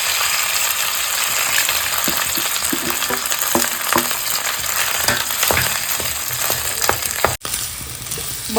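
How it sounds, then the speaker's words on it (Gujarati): Potatoes dropped into hot oil for Gujarati-style pakoras, giving a loud, dense, continuous sizzle with scattered crackles and pops, close up and with no voices. "તો તેલ ગરમ થઈ ગયું છે હવે આપણે તેમાં બટેટા એડ કરી દઈશું"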